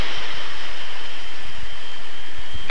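A turbojet engine from a 1953 air force training film runs steadily at close range, a continuous high whine over a broad roaring rush with no breaks or talk.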